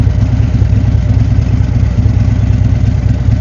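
A motorcycle engine drones steadily while riding past a lake, a loud, continuous low rumble with a slightly rough, clattering texture and no break.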